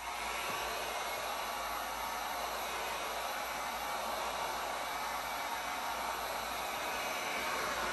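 A heat gun blows steadily while warming a vinyl aftermarket skin on a Pro-Boat Blackjack 42 RC boat. The airy whoosh is constant and even, close by, with no talk over it.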